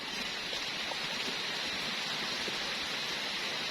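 Steady rain falls at a home where an elephant is kept, a dense even hiss of drops filling the whole stretch without pause, fairly close and unbroken by voices.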